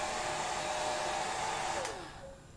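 A hair dryer blows steadily on a craft project being dried, a loud continuous whoosh that winds down and cuts off near the end.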